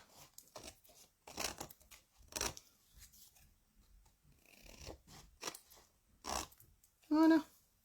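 Cutting around the edge of a transparent rainbow craft card: a series of short, dry snipping and slicing bursts spaced irregularly, close and fairly clear, ending in one louder, longer cut, with some quiet background activity.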